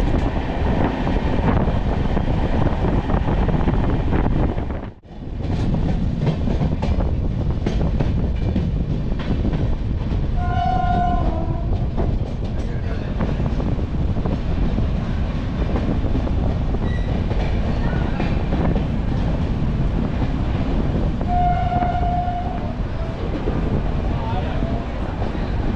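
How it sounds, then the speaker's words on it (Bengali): Darjeeling Mail 12344 from NJP to Sealdah running through the night, heard from inside a 2AC coach as a loud, steady rail rumble with rhythmic wheel clatter, a brief dip near the start and occasional faint voices. "ট্রেন এখন এগোচ্ছে তার কাঙ্ক্ষিত গন্তব্যের দিকে"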